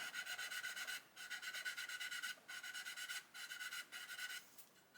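A sanding stick rubs back and forth along the wing root of a 1/35 scale Ju 87 G Stuka model, giving a steady close raspy scraping in repeated strokes with brief pauses between passes.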